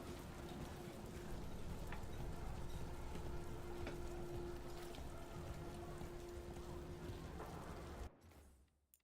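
Steady rain hisses in the video game Dragon Age: The Veilguard, an even, moderately quiet wash with a faint sustained tone beneath it, cutting off abruptly near the end.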